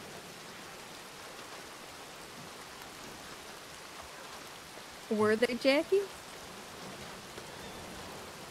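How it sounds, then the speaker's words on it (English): Steady in-game rain hisses through a Red Dead roleplay scene, a broad constant wash, with a voice speaking briefly over it partway through. "Can't hear through the rain."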